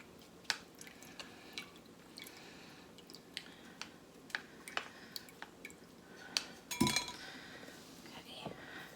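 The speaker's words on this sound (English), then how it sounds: "I'm just going to press out some of the extra liquid in here." Violet syrup liquid pressed through a strainer, with a run of faint drips, small clinks and scraping taps scattered through a quiet background, plus one louder clattering knock near the end.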